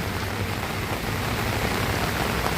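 Steady, dense rain pours down continuously outside a church in Adoor, Pathanamthitta, a loud even hiss with no pauses.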